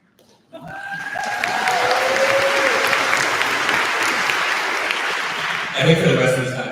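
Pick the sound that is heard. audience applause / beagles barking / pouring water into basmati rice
audience applause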